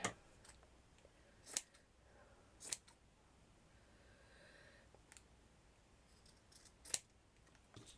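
Scissors snip through felt for a craft flower, giving four sharp, isolated cuts spaced a second or more apart against a quiet background with no talking.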